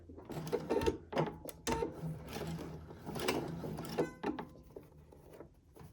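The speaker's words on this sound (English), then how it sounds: "to sew these two strips together, I'm just going to sew from this little V here right across to this V here" A sewing machine stitches two fabric strips together for piping, its rapid mechanical whirring and clatter running in bursts with short pauses, fairly quiet and close.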